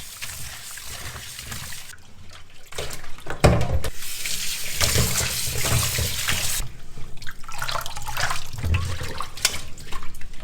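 Snakehead fish being washed under running water: a close tap stream splashing and gurgling steadily, with sloshing surges as the fish is rinsed and handled. No one speaks.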